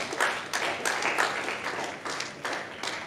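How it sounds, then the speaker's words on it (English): A church congregation applauds, a steady wash of many hands clapping at close to medium distance, swelling in soft waves for a few seconds with no voices standing out. "Let's give him a clap"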